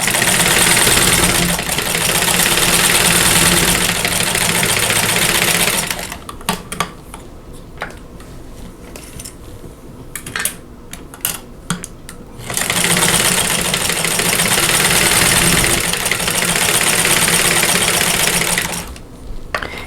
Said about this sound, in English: I'm going to stitch a 1/4 inch away from that drawn line on both sides